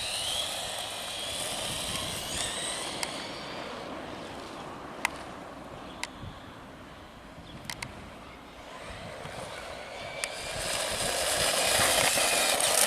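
A Tamiya Dark Impact DF-03 RC car with a blue motor and 7.2 volt NiMH battery makes a high electric whine on a speed run, swelling and fading as it passes at a distance, with a few sharp clicks.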